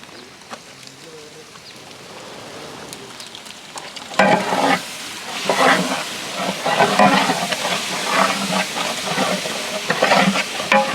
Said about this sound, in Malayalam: കുറച്ച് മല്ലിപ്പൊടി ഇട്ട് കൊടുക്കാം. ആവശ്യത്തിനുള്ള തൈരും കൂടെ ഒഴിച്ചു കൊടുക്കാം.